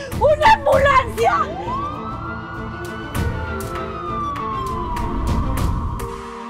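After a short burst of agitated shouting, an emergency siren swells upward into a long sustained wail that slowly sinks, fairly close and loud.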